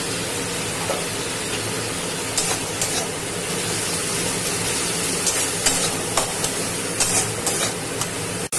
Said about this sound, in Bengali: এবার এর মধ্যে আমি আদা, রসুন, কাঁচা লঙ্কা, পেঁয়াজ বাটা দিয়ে দিলাম।